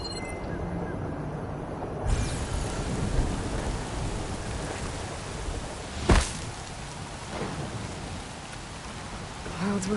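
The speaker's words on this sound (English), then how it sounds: "Clouds were heavy with this rain." Steady rain pours through a video-game thunderstorm with heavy clouds, a sharp thunder crack cutting in midway and fainter rumbles after, the broadband hiss continuous and fairly loud with no talk.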